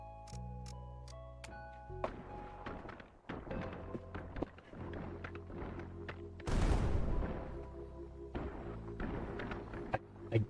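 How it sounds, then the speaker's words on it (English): Several bombs burst nearly at once in the video game Kin and Quarry, followed by more booming explosions and thuds layered over tonal game music. "I dislike that first explosion because they all go off at the same time"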